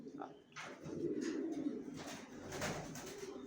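Racer pigeons and their squabs in a loft make soft, low cooing sounds at close range, several coos in a few seconds over a quiet room.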